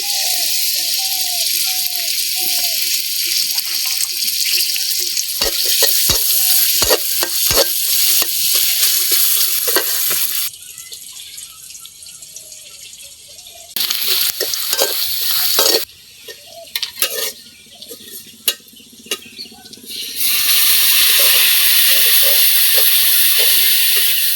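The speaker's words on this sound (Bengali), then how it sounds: "তেলের ভিতরে দিয়ে দিলাম পেঁয়াজ রসুন" Onion and garlic fry in oil in a village kitchen, giving a loud, sustained, close sizzle with rattling stirs and sharp clatters that drops out and returns, while a voice talks in places.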